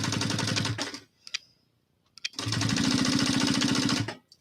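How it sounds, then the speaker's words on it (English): A sewing machine stitches a backpack in two rapid bursts of rhythmic clatter, a pause with a few small clicks between them, close and steady while running. "Just going to fold it over and sew."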